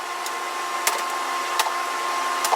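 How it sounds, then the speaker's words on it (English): Steady mechanical drone from a Harvest Right freeze dryer running in a home, constant and fairly loud, with a few faint clicks on top. "the humming of the freeze dryer is kind of loud"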